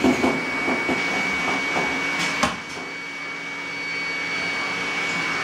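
A household vacuum cleaner hums steadily nearby, with a few knocks and bumps as it moves over the floor partway through.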